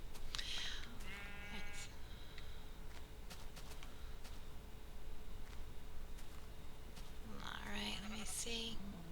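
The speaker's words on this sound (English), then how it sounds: "And I am going to go shear these sheep." Blocky Minecraft sheep bleat in two bursts, one near the start and another near the end, with soft ambient game noise between them while a player shears the flock.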